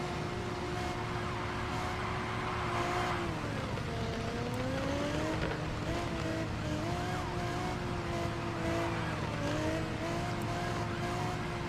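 Cars in the mobile driving game Car Parking Multiplayer race along with a continuous engine drone whose pitch rises and falls as they accelerate, alongside siren-like tones, steady and fairly loud throughout.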